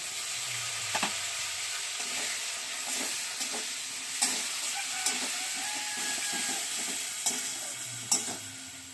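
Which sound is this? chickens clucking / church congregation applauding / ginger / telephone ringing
ginger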